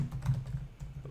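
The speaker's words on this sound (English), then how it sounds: "we type in MySQL string functions," Close computer keyboard typing: a short, quick burst of soft key clicks at an even pace, with no talking.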